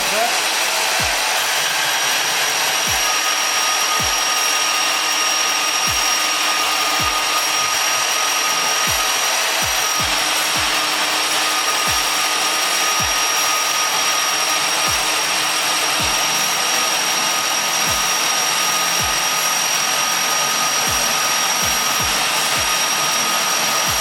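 Homemade table bandsaw cutting 1/4 inch thick steel, a loud continuous high-pitched grinding whine that holds steady for the whole stretch, broken by frequent short low thumps, with no talking.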